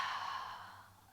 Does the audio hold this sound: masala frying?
no